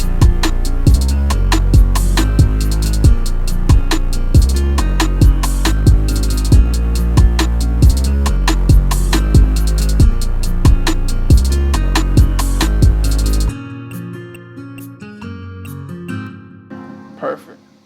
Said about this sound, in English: I got this sound called Fuzzy Sync Bass